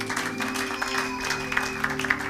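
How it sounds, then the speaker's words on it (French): A church congregation claps and cheers in praise, a steady wash of applause with scattered shouts, a sustained organ or keyboard tone running underneath throughout. "Acclamez pour la gloire de notre Dieu"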